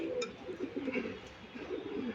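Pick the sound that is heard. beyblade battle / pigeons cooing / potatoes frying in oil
pigeons cooing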